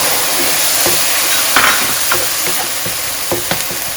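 Sauce for pan-fried turnip cakes hits a hot pan and sizzles loudly and steadily, with scattered clicks and scrapes of stirring through the steam hiss, close up and with no voices.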